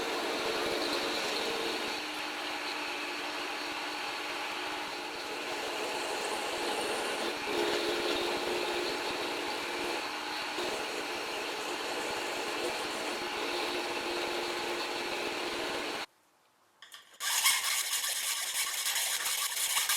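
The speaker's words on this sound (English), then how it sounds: "Here's my power hacksaw at work." A power hacksaw cutting metal in a home workshop, a steady grinding rasp with a low mechanical rumble running continuously, then a brief drop to near silence before the cutting noise resumes.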